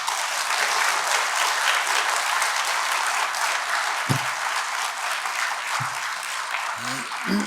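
A church audience applauds warmly to welcome a guest speaker, steady dense clapping filling the room throughout, with a few voices surfacing near the end.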